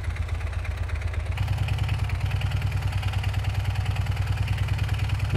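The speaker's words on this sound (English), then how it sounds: "Sounds like a big tractor engine." A large engine idles like a tractor in the Gearblocks building game, a steady low rhythmic chugging thrum that grows slightly louder partway through and continues evenly throughout, no talk.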